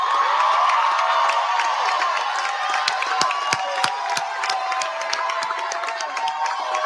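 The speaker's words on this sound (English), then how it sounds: "Let's give them a round of applause, some energy" An auditorium crowd at a university tap day ceremony claps and cheers continuously, loud and dense, with whoops and shouts rising over the steady applause.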